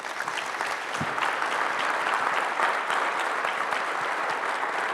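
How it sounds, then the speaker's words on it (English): Steady, full audience applause at a sustainability conference opening plenary on agrivoltaics, a dense even wash of clapping throughout with no break. "Can we give this incredible group a round of applause?"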